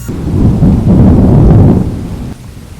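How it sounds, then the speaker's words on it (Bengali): A loud, close thunder strike rolls into a deep rumble with rain hiss for about two seconds before cutting off abruptly, used as a sound effect in a horror audio story. "ঠিক সেই সময় বাইরে জোরে একটা বাজ পড়ে"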